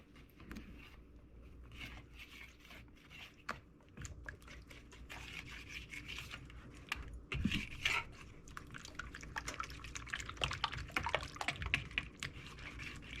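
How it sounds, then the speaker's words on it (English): Rapid, rhythmic clicking and scraping of a whisk against a bowl mixing evaporated milk with water for a French toast casserole, close and fairly quiet, growing busier toward the end. "Give it a good old-fashioned whisking."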